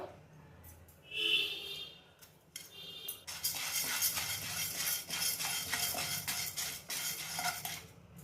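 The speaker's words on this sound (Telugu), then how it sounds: "కడాయిలో కందిపప్పు వేసుకుంటాము, వేయించుకుందాము." Toor dal roasts dry in a kadai while a metal spatula stirs it: a few clinks first, then a steady close rustling scrape of lentils against the iron pan, with no voice.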